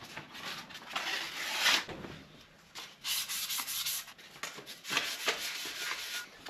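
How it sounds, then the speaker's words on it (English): Sandpaper at 800 grit rubbing over primer on an alloy wheel, a light, close scratchy friction in uneven strokes that swell and fade repeatedly, with no talking. "So you really don't want to go too hard with the 800 grit sandpaper."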